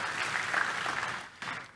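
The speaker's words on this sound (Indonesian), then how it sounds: "Sekali lagi yuk tepuk tangan buat Tuhan kita." Brief burst of applause from a church congregation during a worship service, a soft, steady patter of many hands that drops off and then briefly returns.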